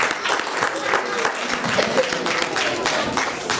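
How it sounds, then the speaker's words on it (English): An audience at a Chanukah magic show breaks into a steady round of applause, broad crackling claps sustained throughout while a voice talks over the crowd. "big round of applause."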